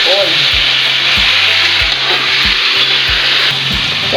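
Shrimp sizzle loudly in a hot pan with squash in coconut milk, crackling frying noise broken by regular scraping knocks of a spoon stirring roughly every half second.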